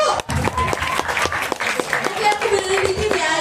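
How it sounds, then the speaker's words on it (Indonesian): Group applause during a spiritual retreat at a temple in Kediri, a busy crackle of hands with a brief dip near the start and faint voices mixed in underneath. "Tepuk tangan dulu."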